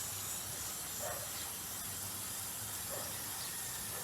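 A steady hiss of water spraying onto freshly planted seeds in soil, continuous and fairly soft at close range, with no speech over it.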